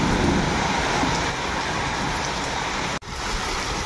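Heavy Kalbaisakhi storm rain pours down in a village in Mayurbhanj as a dense, steady roar that is loud and close, with a brief dropout near the end.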